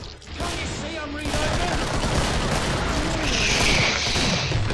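Gunfire in Killing Floor: Hell Ride, a steady dense roar of shots and booms running throughout, fairly loud, with a voice at the start.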